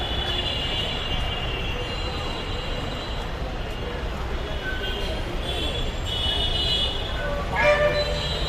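A metro train rumbles steadily past overhead, a continuous heavy roar with a brief high squeal near the end, amid busy street noise beneath a metro station at Mirpur 10, Dhaka, with crowded hawkers.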